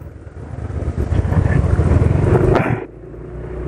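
Yamaha NMAX 2020 scooter engine idling at low RPM, a steady close rumble that swells slightly then drops suddenly to a quieter, smoother hum near the end.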